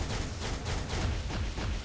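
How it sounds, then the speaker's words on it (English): A rapid volley of missiles fired in the Marvel Future Fight mobile game, a dense burst of rattling launches and thuds in quick succession, loud and close with no speech. "Shoot a ton of missiles out."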